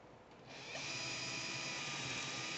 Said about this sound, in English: You want to make sure to drill this hole